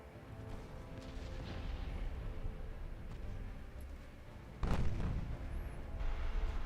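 Warship guns boom in the Ultimate Admiral Dreadnoughts naval game, a steady low rumble of distant fire rising into a heavier burst of shots, with no talk.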